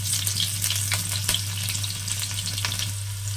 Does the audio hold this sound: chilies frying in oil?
yes